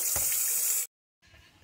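Tap water runs steadily into a spray bottle being filled with a homemade cleaning mix, a close hissing gush that cuts out abruptly, then resumes more softly after a short silence.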